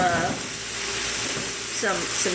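Carrots for chicken soup are stirred in a heated pan with a continuous sizzle, while a voice talks briefly at the start and again near the end.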